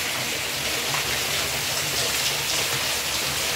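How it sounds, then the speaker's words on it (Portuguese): Heavy rain falls steadily over a village area in Acopiara, Ceará, on a Thursday afternoon, a dense continuous hiss of downpour close to the microphone with no voices. "É chuva boa em Acopiara, tarde de quinta-feira e é chuva boa."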